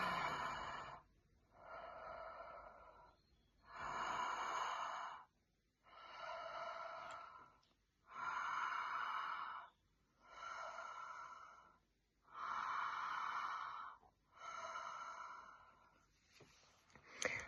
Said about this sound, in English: we're going to be doing the conscious connected breath, and it goes a little bit like this. We breathe in and we let go